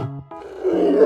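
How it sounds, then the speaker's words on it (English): A bear gives a short, deep roar with a rough, grunting growl that swells and holds, heard close and alone for about a second. "Bear. Bears have an excellent sense of smell."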